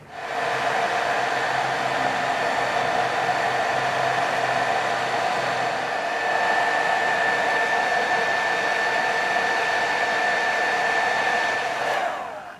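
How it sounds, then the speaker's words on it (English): A hair dryer blows steadily with a loud, even whirring hiss from start to finish while drying a diorama, cutting off abruptly at the very end. "It's time to dry off with our old friend the hairdryer"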